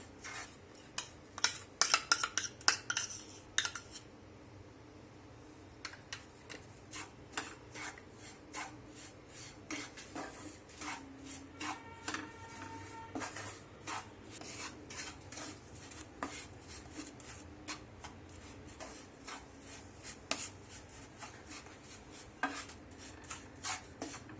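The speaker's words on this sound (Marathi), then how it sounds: "आता आपण हे कणिके ही भाजून घेऊया ती पण आपल्याला छान गुलाबीसर अशी मस्त तुपात भाजून घ्यायची आहे" Wheat flour roasting in ghee in a pan for fenugreek laddu, with intermittent scraping and clinking of a spoon against the pan, soft rasping strokes in irregular bursts, quiet and close with no talking.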